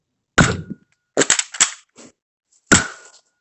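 A Nerf toy gun shooting foam darts at targets, four sharp snapping shots, the middle ones in a quick cluster of two to three, separated by silence.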